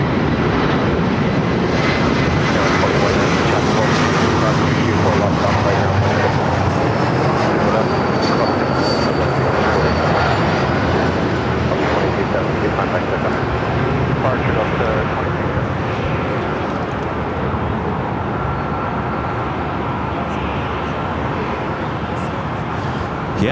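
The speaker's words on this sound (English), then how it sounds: "This flight heading to Phoenix, Southwest Airlines flight 117 at" A Southwest Airlines Boeing 737-800 jet at LAX roars steadily, a loud, sustained engine rumble and whine throughout, with voices talking over it.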